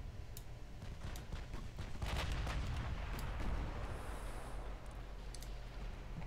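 Heavy naval gunfire from a warship's main battery in Ultimate Admiral: Dreadnoughts, an H class battleship: a series of deep, booming blasts with sharp cracks, building to a dense rumbling volley midway and then easing off into a low rolling background.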